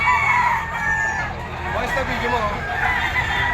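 Roosters crow and cluck at a busy pet market, one of them a straight-combed, yellow-legged bird, with crowing overlapping amid the babble of a crowd nearby.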